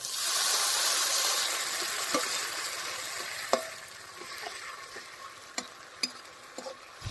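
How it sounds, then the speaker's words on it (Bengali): Sabla curry in a pan sizzles loudly after water goes in, a strong hiss that settles into steady frying punctuated by scattered clinks and taps of stirring, with no voices. "এবার আমরা তরকারিতে একটু পরিমাণ মতো জল দিয়ে দেব"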